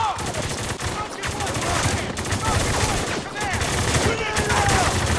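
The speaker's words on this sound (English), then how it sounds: "We're under fire!" Sustained gunfire in the war shooter Spec Ops: The Line, dense rapid machine-gun bursts and shots running continuously and loud, with shouted voices mixed into the battle din.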